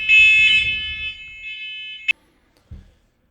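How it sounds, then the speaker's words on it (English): Shrill electronic smoke alarm tones sound steadily in a house with rumbling noise underneath, then cut off abruptly after about two seconds, followed by a brief thump. "Had smoke alarms going off in the house"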